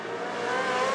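A classic race car cuts the chicane at Le Mans, its engine a loud, steady, close roar with a slight tire squeal throughout the brief moment.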